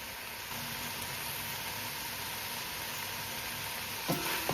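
Curried goat with onion sizzling and frying in a pot on a stovetop, a steady soft hiss with faint crackles that continues evenly throughout, close by, with no talking.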